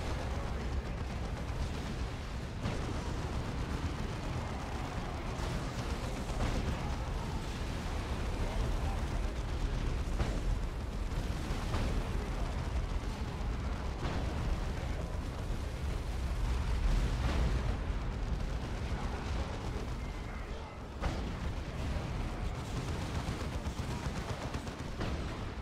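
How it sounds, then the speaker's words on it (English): An artillery bombardment rains on a bridge in the strategy game Dawn of War 2, with dense, rumbling explosions and scattered blasts rolling continuously under a busy battle din. "Ultimate bombardment coming on the bridge."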